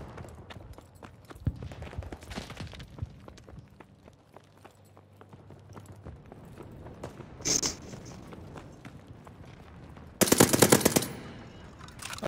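Video game gunfire in Call of Duty: Vanguard on the Dome and Sub Pens map: rapid automatic bursts and scattered shots mixed with running footsteps, mostly moderate in level, with a loud, close burst near the end.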